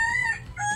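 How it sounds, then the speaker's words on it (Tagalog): A chicken gives a short, drawn-out call at night in the Philippines, close and clear, rising and falling twice within a second, with no talking. "Ayun, may manok na naman."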